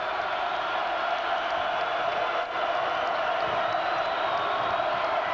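Crowd noise fills a college basketball arena during an Iowa State versus Kansas game, a steady, loud, broad roar of excited spectators that holds nearly constant, with a brief dip midway.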